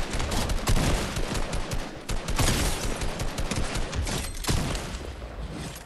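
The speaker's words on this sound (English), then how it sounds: "Gunshot." Rapid gunfire from the video game Fortnite crackles in dense bursts, loud and sustained across the whole stretch, with sharp overlapping shots and brief lulls between volleys.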